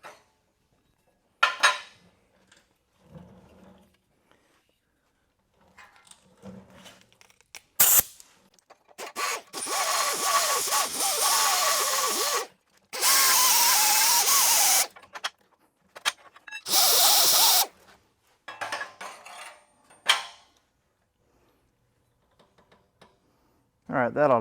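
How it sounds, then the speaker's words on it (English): An angle grinder bites into a crusty, dirty old car frame for a Model A hot rod body jig, in several loud harsh bursts of a few seconds each, with quiet gaps and a little talk between. "So we'll go ahead now and grind this out in here"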